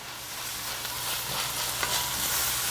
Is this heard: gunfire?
no